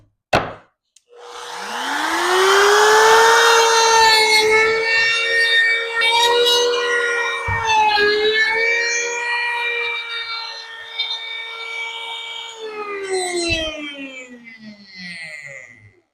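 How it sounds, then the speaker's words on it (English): Wood router fitted with a roundover bit, routing holes in a wooden egg holder: a high motor whine spins up quickly, then holds a loud, steady pitch for about fourteen seconds, dipping and wavering as it cuts before easing off near the end. "Just enough so we can route these holes."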